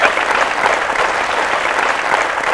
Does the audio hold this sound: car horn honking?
no